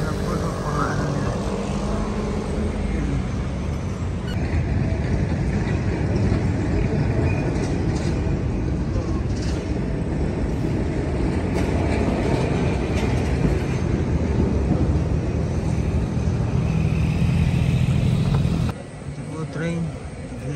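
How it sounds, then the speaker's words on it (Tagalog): A passenger train sits waiting at a station, giving off a steady low rumble and hum that holds for about twenty seconds before dropping slightly at the end, with voices audible in the background. "Train, naghihintay ng mga pasahero."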